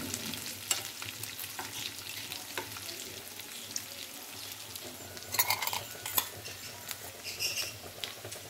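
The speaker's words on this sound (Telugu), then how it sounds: "ఇప్పుడు దీంట్లో అల్లం వెల్లుల్లి పేస్ట్ వేసుకుందాం" Chicken frying with ginger garlic paste gives a quiet, steady sizzle with scattered crackles and occasional scraping clinks of a utensil stirring in the pan, with no voices over it.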